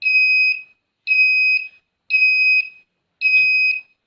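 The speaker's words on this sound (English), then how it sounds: "So as soon as it crosses 45 here, it starts beeping." An electronic alarm on a transformer health monitoring system, sounding four evenly spaced high-pitched beeps, each about half a second long, loud and close with silence between them.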